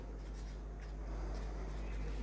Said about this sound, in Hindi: तो हम यहाँ पे लिखेंगे